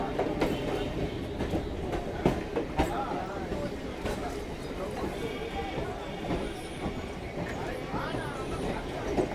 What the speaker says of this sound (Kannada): ಮಾರ್ಕೆಟ್ ಒಳಗಡೆ ಟ್ರೈನ್ ಹೋಗುತ್ತೆ, ಸೇಮ್ ಅದೇ ಥರ ಇದು ಕೂಡ ನೋಡ್ರಿ, ಎಷ್ಟು ಹತ್ರದಲ್ಲಿ ಹೋಗ್ತಿದೆ ನೋಡಿ